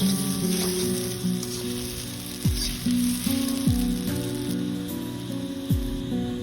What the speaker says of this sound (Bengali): এইভাবে সুন্দর করে নাড়াচাড়া করে ভাজি করে নেব।